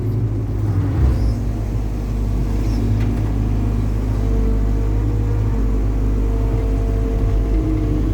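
A Thai excavator's diesel engine rumbles steadily close by while the arm extends and the bucket tilts, with a low continuous drone and slight shifts in load and a faint hydraulic whine.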